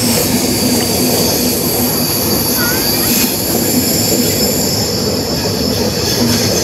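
The Janmabhoomi train crosses the road-cum-rail bridge over the Godavari River, loud and continuous with metallic wheel squeal and rolling clatter, a dense steady roar throughout.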